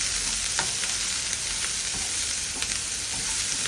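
Capsicum sautés in oil in a pan with steady close sizzling, broken by scattered clicks and scrapes of stirring, with no talk.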